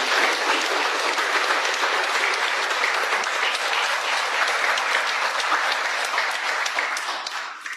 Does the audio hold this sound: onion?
no